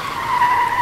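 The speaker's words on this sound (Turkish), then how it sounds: "Sabah işe giden bir kadın öğretmen acı bir fren yaparak yolun ortasında durdu." A car brakes hard on a road and skids, a brief steady tire squeal lasting under a second at moderate loudness.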